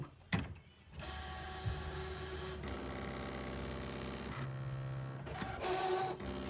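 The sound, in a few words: ScanNCut machine cutting fabric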